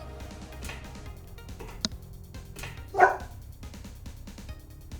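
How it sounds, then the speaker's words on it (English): A dog barks once nearby in a room, a single sharp bark standing out over quiet background noise, with a faint yip or click just before. "Thought that dog was in the game for a second."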